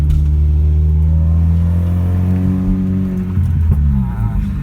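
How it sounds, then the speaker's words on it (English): A supercharged 2006 Chevy Cobalt SS engine revs up loudly and steadily, its pitch climbing with a rising supercharger whine layered over the deep rumble. "I love hearing that supercharger whine. Try to kick it in for you guys"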